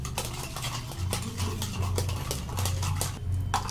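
A spoon stirs sugar into juice in a cup, giving quick repeated clinks and scraping taps against the side, close and fairly quiet over a low background hum.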